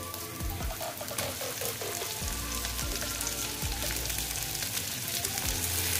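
Tomatoes drop into oil where koi fish is frying for a Bengali mustard-poppy seed dish, setting off a steady, crackling sizzle with a few soft stirring knocks, close and fairly quiet.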